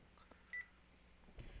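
Telephone keypad dialing tones for a phone call, a short beep standing out against a quiet room, followed by a low rumble of handling noise near the end.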